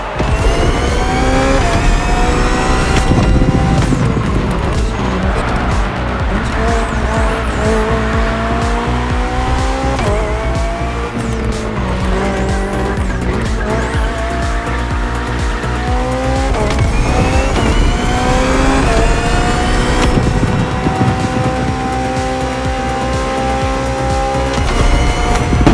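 A BMW hybrid V8 race car in The Crew Motorfest roars steadily, its engine pitch climbing and dropping through gear shifts, with tires squealing through corners, loud and continuous.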